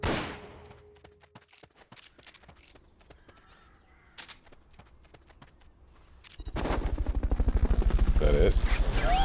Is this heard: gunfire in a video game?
yes